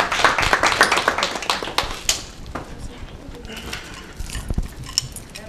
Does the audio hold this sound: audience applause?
yes